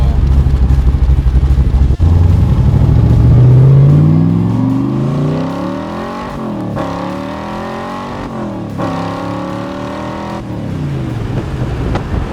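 A 1965 Backdraft Cobra makes a half-throttle acceleration pull in second gear. The engine note climbs loud and close, drops briefly at shifts, then rises again, with a car interior rumble throughout.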